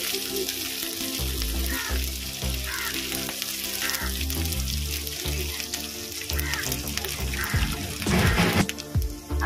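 Ginger garlic paste sizzles and fries with onions in a pan, a steady crackling hiss broken by scraping stirs and occasional louder spatters, close up and without talk.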